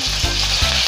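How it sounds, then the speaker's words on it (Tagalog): Chicken pieces frying loudly in hot oil for chicken paksiw, a dense close sizzle with brief stirring bumps. "Prito na natin yung ating chicken"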